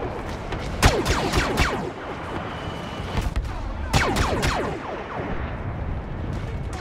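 Rapid blaster gunfire in the Star Wars Battlefront video game on Hoth, repeated sharp zapping shots with descending whines in irregular bursts over a constant battle din.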